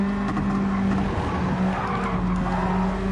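A race car in Gran Turismo 7 brakes hard with sustained tire skidding and squeal over a loud, steady engine roar, continuous throughout.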